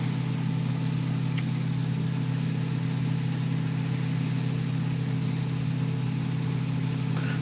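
A Jeep Compass engine idles from inside the car, a steady low hum with a constant tone and faint background noise, unchanging and without talk.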